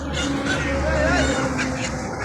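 Muscovy ducklings quack in a run of close, nasal calls at a busy market, with people talking in the background.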